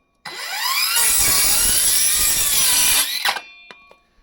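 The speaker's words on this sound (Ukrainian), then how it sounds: "Дошка 25 мм. Показуй, як ріже." A Ronix cordless circular saw spins up and cuts through a 25 mm wooden board, a loud, steady whine with a rising then falling pitch for about three seconds before it winds down and stops.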